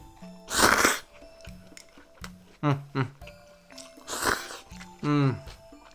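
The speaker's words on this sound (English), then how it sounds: "with the soba noodle, I'm gonna slurp quite furiously" Two loud, airy slurps of soba noodles, close to the ear, separated by a few seconds of talking.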